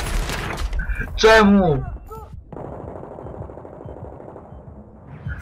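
Gunfire in the video game Battlefield 3: a dense, rapid automatic rattle that goes on for several seconds, with a player's voice speaking briefly over the start.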